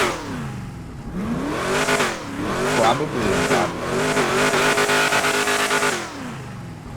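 A swapped-in car engine in GTA roleplay revs hard, rising and falling through several loud throttle bursts before settling, with a brief spoken word over it.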